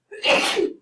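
A single sharp sneeze from someone in a calculus classroom, short and close, with a quick burst that fades out within a second.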